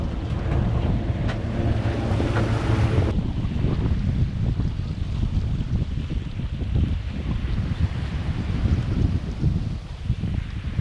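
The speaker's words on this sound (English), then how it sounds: "Now we got hovercraft." A hovercraft passing on open ocean water off the US east coast in December, heard as a steady roaring drone blended with wind buffeting and sea wash, close and continuous throughout.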